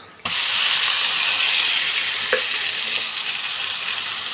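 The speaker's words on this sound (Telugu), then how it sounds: "పప్పు ఫ్రై అవుతుంది కదండి" Lentils (dal) fry in a pan for a Telugu-style home dish, giving a loud, steady broadband sizzle that starts abruptly and holds throughout, with one brief clink partway through and no voices.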